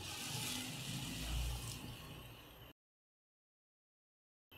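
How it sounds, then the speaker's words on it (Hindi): Water pouring into sugar in a pan, three-quarters of a cup added for a soan papdi syrup, a steady close splashing stream for about two and a half seconds that then cuts to silence. "यहाँ पे मैं इसमें पौना कप पानी का ऐड कर रही हूँ"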